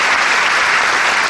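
A concert crowd applauds a performer with a brief burst of dense, loud clapping from many hands, steady and unbroken throughout.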